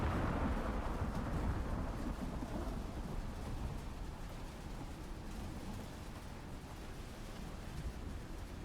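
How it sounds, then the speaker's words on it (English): A huge red storm in the Icarus survival video game rolls on as steady, dense rain hiss with a deep rumbling thunder wash, loudest at the start and easing slightly, with no talking. "Oh, you got a huge red storm"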